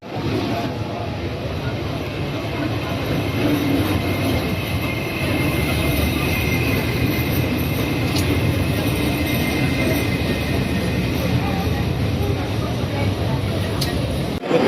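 Train pulling into La Spezia Centrale station in Italy, a steady broad rumble of rolling wagons with faint squeal, continuous and fairly loud from start to finish, with people talking nearby.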